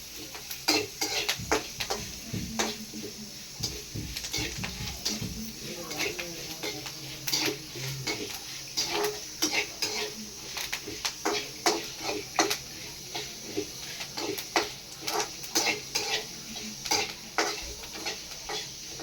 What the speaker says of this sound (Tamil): கொஞ்சம் வறுத்துக்கணும் தேங்காய் அப்புறம் வதக்கிக்கணும்